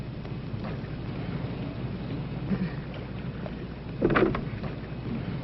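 A little rowboat sits on the water at night: a steady low wash of water with faint splashes, plus a soft knock or bump near the end, heard alone without talk.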